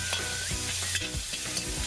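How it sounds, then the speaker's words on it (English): Bite-size chicken pieces stir frying in a hot wok, a close sizzle with quick scraping and tossing strokes of the spatula, no one speaking. "The chicken is cut to bite size, so it cooks very rapidly in the wok, and by stir frying it"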